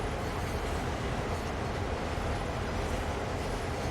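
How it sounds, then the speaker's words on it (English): A CSX heavy-haul freight train in Train Sim World passes close by as a steady, loud, continuous rumble and rolling roar of wagons, with no breaks or distinct clanks. "Look at that beautiful train."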